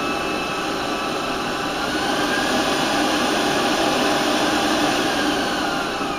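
A mixer beats raspberry thumbprint cookie batter, a loud, steady, unbroken whir that holds an even pitch throughout with no talking.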